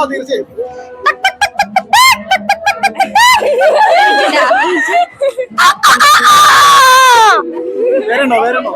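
A high-school student imitates a chicken with the voice at a school arts festival, a loud burst of rapid clucks followed by a long rising crow, close and alone with some laughter-like breaths.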